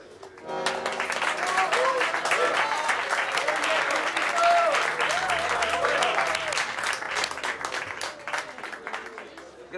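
Audience applause after a tango at a small venue, steady dense clapping swelling to a peak then tapering slightly, with faint voices mixed in.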